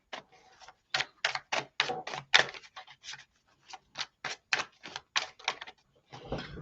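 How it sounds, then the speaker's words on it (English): A Rider-Waite tarot deck being shuffled: a run of about fifteen crisp, rhythmic papery bursts, close and fairly quiet, with brief pauses between them and no talking. "So the only thing about this Rider-Waite deck is that it does not shuffle the best"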